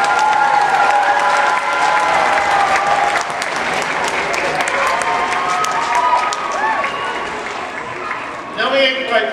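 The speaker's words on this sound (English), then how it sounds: "Give one more round of applause," Audience applause and some cheering fill a concert hall at the Pikes Peak Center after a musical performance, strong at first, then thinning before a voice speaks at the end.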